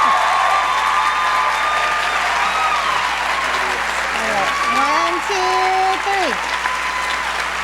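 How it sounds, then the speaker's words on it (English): A ceremony audience applauds an Arkansas history teacher of the year with steady, dense clapping throughout. Voices and a few tonal sounds rise over the clapping. "Please join me in a round of applause for the Gilder Lehrman Arkansas History Teacher of the Year"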